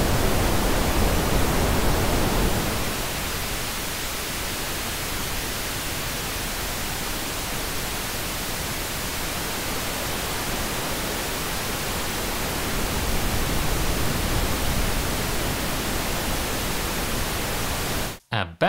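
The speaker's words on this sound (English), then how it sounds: "Here is how a low-shelving filter sounds." Broadband noise run through a low-shelving EQ filter, a steady hiss with a heavier low end in the first couple of seconds that then thins out, continuous and fairly loud for about eighteen seconds before cutting off abruptly.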